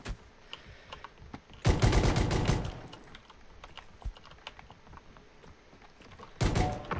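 Gunfire bursts in the PUBG (Battlegrounds) video game: a loud volley of shots near the start, then a quieter stretch of scattered clicks and small noises, and another short burst at the end.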